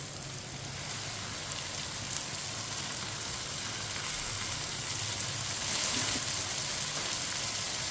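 Finely chopped spinach hitting a hot pan with cooked tomatoes for spinach and eggs, giving a steady, even sizzle and hiss throughout with no talking.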